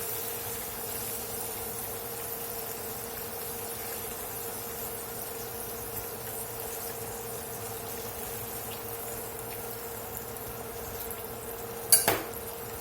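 A batch of fried beef for Beijing beef is emptied into a metal strainer, giving a single short burst of metallic clatter near the end, after a long stretch of steady kitchen hum and faint sizzle.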